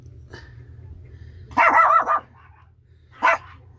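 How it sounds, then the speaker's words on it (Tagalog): A 26-day-old shih tzu puppy barking: a short burst of high, yappy barks followed by a single yip after a pause, close by over a low background hum. "Ay, tatahol-tahol ka na naman eh."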